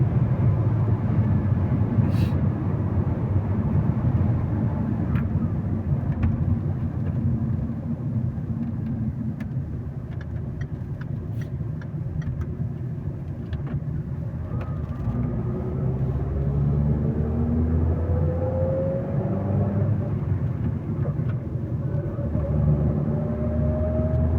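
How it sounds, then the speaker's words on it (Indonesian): Steady road rumble from inside a car on a busy highway between Tilburg and Breda in the Netherlands, with cars and trucks around, a continuous loud drone of engine and tire noise throughout. "di depan padat sekali mobil-mobil dan juga truk-truk yang angkut barang mereka"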